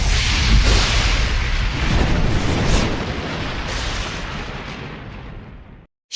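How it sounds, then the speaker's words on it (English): A loud, rumbling burst like a magical explosion accompanies the evil fairy appearing in a flash of green fire, a broad roaring whoosh that slowly fades over several seconds before cutting out. "Merryweather was about to bestow her gift when the evil fairy Maleficent appeared in a flash"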